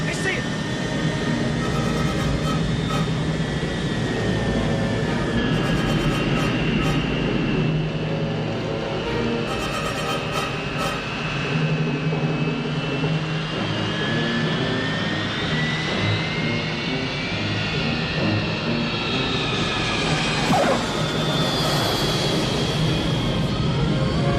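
Three-engine jet airliner in the final scene of Die Hard 2 at an airport, a loud sustained jet engine roar with whining tones that slide up and down in pitch as it powers along, with voices speaking over it.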